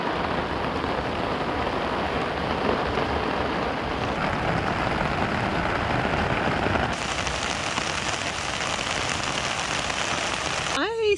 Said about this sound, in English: So I'm testing the FK Tarp in the rain here at home